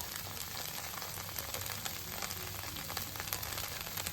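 Kaju chilli paneer with cashews fries over a high flame while being stirred, giving a steady close sizzle with scattered scraping clicks throughout and no talking.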